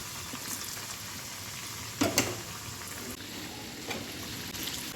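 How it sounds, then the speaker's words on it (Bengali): Pitha fry in a pan, giving a steady close sizzle with a couple of louder crackling bursts midway as the cakes are turned or stirred, no voices. "এদিকে পিঠাগুলো দেখেন একটা পিঠ লাল লাল করে ভাজা হয়ে গেছে।"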